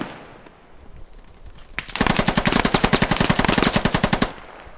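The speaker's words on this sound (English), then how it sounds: "Your machine gun scared me." Rapid automatic machine gun fire rings out in a squad-based war video game. One loud burst of evenly spaced shots lasts over two seconds after a quieter stretch of background noise.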